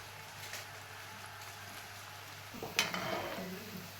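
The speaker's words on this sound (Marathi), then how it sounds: "तेल छान तापलेलं आहे आता आपण या शंकरपाळ्या ज्या आहेत सुट्या सुट्या सोडायच्या" Shankarpali dough pieces slipping into hot oil for deep frying: near silence, then a sudden burst of bubbling sizzle that keeps crackling at moderate volume.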